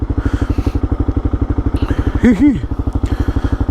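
A Kawasaki KLR motorcycle fitted with a Cogent rear shock rides along with a steady, loud, pulsing engine thump, and a voice speaks briefly partway through over the engine.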